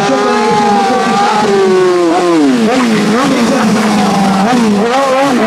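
At a streetfighter motorcycle stunt show in Szombathely, a motorcycle engine revs loudly, its pitch climbing and dipping in repeated swells. A voice speaks over it.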